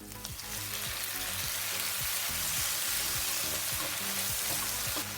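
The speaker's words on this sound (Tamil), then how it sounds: "தக்காளி மசிகிற அளவுக்கு வதக்குவோம்" Ginger and chopped tomatoes sautéing in a pan for Jaffna-style prawn curry, a loud, dense, continuous hiss of frying, close up and steady with no talking.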